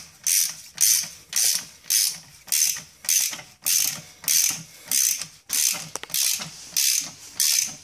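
Spring compressor on a VE suspension cranked with a ratchet to compress the springs, giving about a dozen steady, evenly spaced ratcheting bursts of metallic clicks, close and loud, with no talking.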